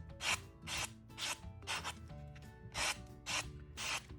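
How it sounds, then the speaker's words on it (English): Hand sanding the edge of a small wooden earring, rhythmic rasping strokes about seven in four seconds, close and crisp, with no talking. "I'm turning it as I do it, and I'm just sanding that edge down."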